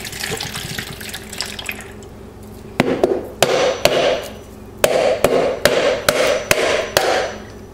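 A whole coconut is struck hard and repeatedly to crack it open while making homemade coconut milk. There are about a dozen sharp, close knocks in uneven bursts, and softer handling and watery sounds come between them.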